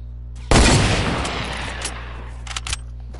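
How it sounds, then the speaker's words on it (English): One loud gunshot cracks out in Fortnite and decays into a long rumbling tail, with a few fainter shots following. "I thought I heard a gunshot"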